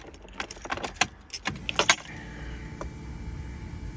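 Keys jingle on a ring as the ignition key goes into a Ford Escort Van and turns, giving a couple of sharp clicks, then a quiet steady electrical hum follows.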